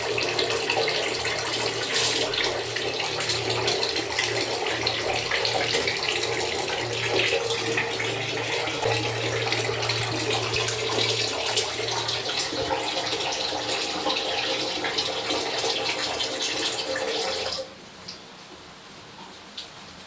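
Warm water runs steadily from a tap during a hair wash, a continuous close splashing flow with a low hum, cutting off abruptly near the end and leaving quiet with a faint tap.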